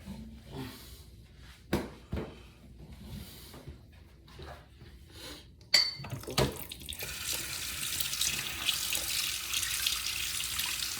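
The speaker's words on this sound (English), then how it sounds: "I'm gonna rinse my hands on quickly" A kitchen tap runs as hands are rinsed under it, starting after a few clinks and knocks of items set down, then a steady close hiss of running water filling the rest.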